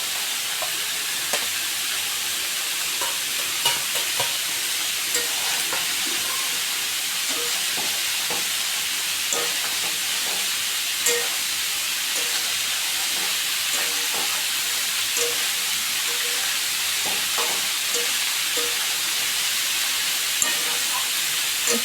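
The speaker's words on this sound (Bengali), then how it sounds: "মশলা থেকে তেল ছেড়ে দিলে দিয়ে দিব ভেজে রাখা পটল।" Fried pointed gourd is stirred through a spiced masala in a pan, giving a steady loud sizzle and hiss with scattered scraping clicks from the stirring, no voices.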